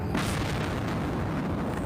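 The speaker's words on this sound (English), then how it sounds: "New explosions in Gaza this evening." Explosions in Gaza as carried in a TV news report, heard as a dense, rumbling barrage of booms and blasts, loud and continuous, with no talk over it.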